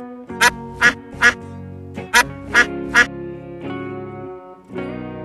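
A duck quacks six times in close, sharp, evenly spaced bursts over a steady backing of music, then the music carries on alone.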